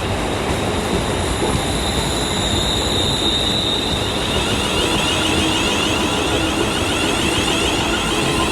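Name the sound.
train arriving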